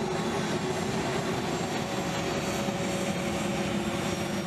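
Steady, loud roar of Fairchild A-10 jet engines, mounted high and rearward on the fuselage, droning continuously and evenly for the whole stretch with no talk.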